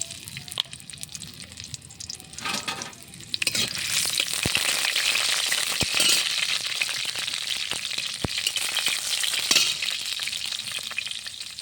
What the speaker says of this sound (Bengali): এখন আমি দিব রসুন থেতলানো আর শুকনো মরিচ।